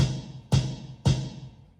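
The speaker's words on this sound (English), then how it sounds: "The bass drum sounds like this." Two deep bass drum thumps from an AKLOT B CORE 530 Pro electronic drum kit, about half a second apart, each with a brief tail, heard alone and close.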